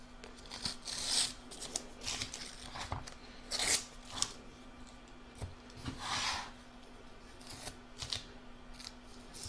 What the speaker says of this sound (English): It's now time to trim all the excesses off of the heart.